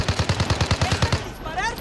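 Rapid automatic gunfire in Call of Duty Modern Warfare, about ten quick evenly spaced shots in a tight burst, loud and close, then a brief tail of fading echo and game sounds.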